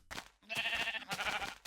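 Pink sheep in Minecraft bleating, a short wavering call after a brief stray noise, then a second bleat close and fairly loud, with no talk.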